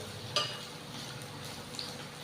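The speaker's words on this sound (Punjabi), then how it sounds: "ਆਪਾਂ ਮੀਡੀਅਮ ਸੇਕ ਦੇ ਉੱਤੇ ਹੀ ਭੁੰਨਾਂਗੇ ਸਬਜ਼ੀ" Chopped bitter gourd and onions frying in a little oil over medium heat, a soft steady sizzle with a couple of brief clinks of a spoon against the pan, no voices.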